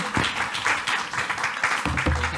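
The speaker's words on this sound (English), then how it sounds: "A round of applause for Jing Long again" Audience applause following a talk at a MIDI event, a short burst of dense clapping filling the room at steady loudness.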